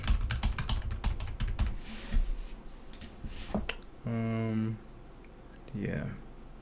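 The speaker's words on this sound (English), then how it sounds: "So let me just type up the rest of these notes." Notes are typed on a computer keyboard during a doctor check-up roleplay, a close, quiet run of rapid key clicks followed by softer scattered taps, with a faint voice in the background.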